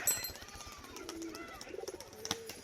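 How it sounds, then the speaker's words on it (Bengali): A male Rajshahi pigeon coos softly in a low rolling burble, a few short phrases close by over faint background noise. "নর পায়রাটা দেখুন"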